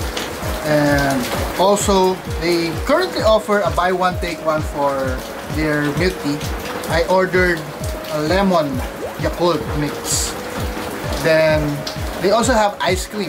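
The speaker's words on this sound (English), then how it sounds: "So it's currently raining, so you can hear the raindrops right now." Steady rain patters in the background while a person talks continuously over it, close and clear.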